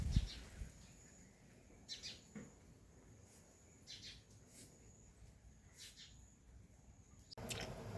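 Bulbul birds near their nest give short, sharp chirps scattered across the clip, faint against a quiet rainy backdrop, with a burst of louder noise at the end.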